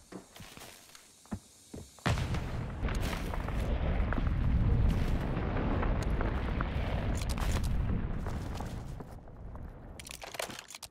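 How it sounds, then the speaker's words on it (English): A grenade blast in a search-and-destroy video game match, a sudden loud crunching boom that swells into a long rumbling roar for several seconds before fading, with a few faint clicks and thumps before and after. "Nade shot."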